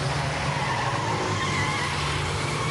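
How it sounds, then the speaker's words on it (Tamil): A vehicle reversing with tyres skidding, a continuous loud scraping screech over a steady low engine drone, close and unbroken. "வண்டி ரிவர்ஸ் எடு"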